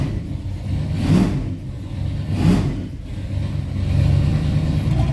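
A turbocharged Ford Mustang with a C4 automatic and a custom torque converter is revved against the brakes, its engine droning loud and close and swelling in two pulses before holding a heavier, steady load.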